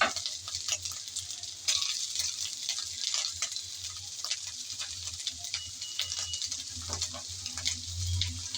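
Prawns stir-fried in a pan with ginger, garlic and onion, a steady close sizzle with scraping stirs and faint clinks running throughout, no voices.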